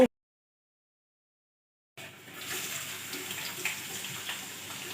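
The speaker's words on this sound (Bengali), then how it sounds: "এদিকে কাচার জন্য জল রেডি হচ্ছে" After a stretch of near silence, water starts running from a tap and keeps flowing steadily at moderate level, filling for washing clothes in a household setting.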